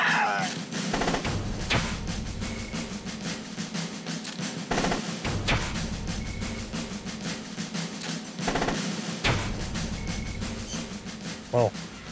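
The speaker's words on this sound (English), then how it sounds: "Shoot the armored vehicle with the rockets" Rockets and gunfire aimed at an armored vehicle in Metal Gear Solid: Peace Walker, a dense loud barrage of blasts and rattling shots with several heavier booms, under a constant game din.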